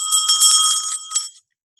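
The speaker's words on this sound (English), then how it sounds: "This is my grandmother's dinner bell." A grandmother's hand-held dinner bell rings brightly and steadily for just over a second, then quickly fades to silence, with no voices over it.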